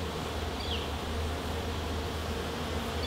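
Honey bees hum in a dense, continuous drone close by, a low steady buzz with no voices.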